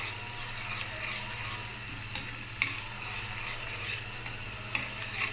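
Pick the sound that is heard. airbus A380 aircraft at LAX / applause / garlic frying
garlic frying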